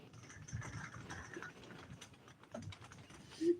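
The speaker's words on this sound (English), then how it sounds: "While typing" Quiet, steady tapping on a computer keyboard during a live stream, soft clicks running continuously at close range with no speech over them.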